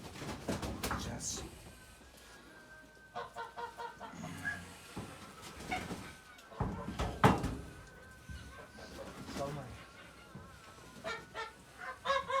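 Fattening geese on a farm honk and cackle in repeated bursts close by, mixed with chicken-like clucks, while people talk in Turkish throughout.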